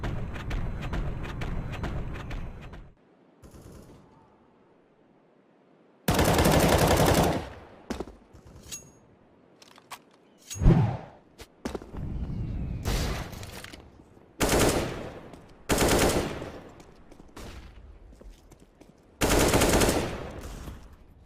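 Bursts of automatic gunfire in a PUBG or CS:GO match come in several loud clusters separated by quieter gaps, with rapid rattling shots and occasional single cracks.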